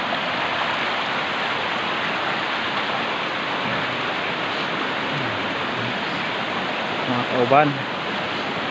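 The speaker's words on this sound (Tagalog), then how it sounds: "Medyo alingog-ngog gyud ang tubig." Water roars in the stream at Pusoy Falls, a loud, steady, unbroken rush close by, with a voice briefly rising over it near the end.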